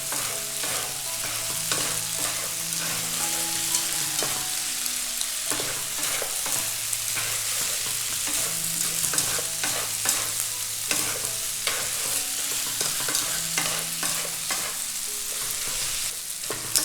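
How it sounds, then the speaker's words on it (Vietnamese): Marinated pork offal with turmeric, shallot and garlic sizzles loudly in a hot pan over a wood-fired stove, with steady frying and repeated scraping stirs of a utensil throughout, up close and without talk. "Sau khi lâu mình ướp được 20 phút rồi thì cho vô xào ha. Mình cho vô thì mình đảo đều ha."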